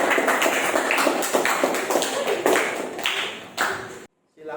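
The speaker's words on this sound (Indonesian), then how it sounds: "diberi tepuk tangan untuk kelompok 2" A class of pupils applauding for a group, a brisk burst of many hands clapping nearby that thins out and stops abruptly near the end, with a voice speaking alongside.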